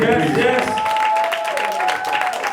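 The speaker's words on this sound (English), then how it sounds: "A round of applause" Applause rises at a community event, with clapping under loud cheering voices and a sustained vocal whoop on top.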